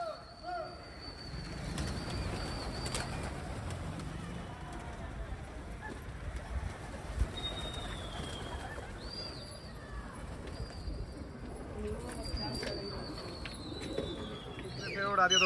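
Patiala pigeons landing on a rooftop during a pigeon-flying contest, with soft cooing and calls, occasional wing flaps, and scattered background voices and ambient noise throughout.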